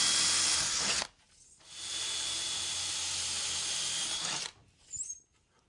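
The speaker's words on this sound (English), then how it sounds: "grab my 1/4-inch drill bit and drill through." A power drill with a 1/4-inch bit bores through a garage door pull bar in two loud, hissing whining bursts separated by a short pause, followed by a brief final burst.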